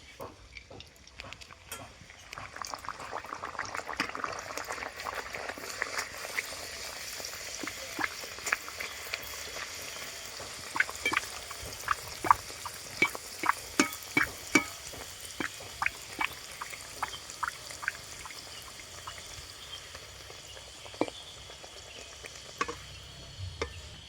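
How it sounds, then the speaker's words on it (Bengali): Pea kachoris deep-frying in hot oil for a Bengali winter meal: a steady soft sizzle with scattered sharp crackles and pops that grow more frequent midway, close and fairly quiet, with no talking. "এবার আমি কচুরিগুলো ভেজে নেবো"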